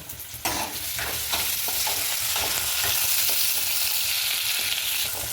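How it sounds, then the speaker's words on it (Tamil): Onions frying in oil in a pan, a continuous close sizzle that jumps up after a brief quieter start, with repeated scraping stirs of a spoon throughout. "இப்போ வெங்காயம் வதங்கிடுச்சு."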